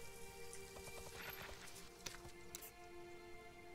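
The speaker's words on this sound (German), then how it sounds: "Jetzt regnet es wieder ohne Ende." A short stretch of continuous rain pattering, with a few sharper drips and knocks standing out over the steady hiss.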